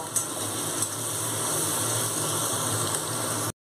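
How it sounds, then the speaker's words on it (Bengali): Onions frying in oil with a pinch of salt and turmeric until browned, a steady close sizzle and crackle running evenly for a few seconds before cutting off abruptly. "এবার আমি ব্রাউন করে পেঁয়াজটা ভেজে নেব"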